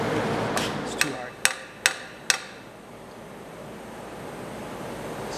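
Four sharp metallic hammer strikes on a warm Yamaha G1 golf cart header pipe land about half a second apart against a hiss of outdoor wind, then the hammering stops.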